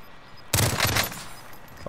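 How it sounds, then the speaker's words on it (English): A burst pistol fires in a video game, a sharp loud burst of rapid shots followed by a brief pause and another shot starting at the end. "Oh my god, it's a burst pistol."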